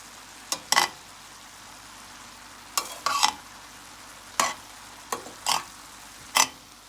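Peppers being stirred into ground meat in a pan, about a half-dozen separate scraping strokes of a spoon at irregular intervals over a quiet low sizzle, with no voices.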